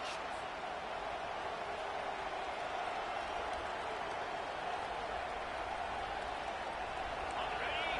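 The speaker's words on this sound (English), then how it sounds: "This crowd bringing an ear-splitting welcome to their visitors." Stadium crowd noise in the NCAA 2025 college football video game, a dense steady roar of cheering heard throughout with a commentator talking over it.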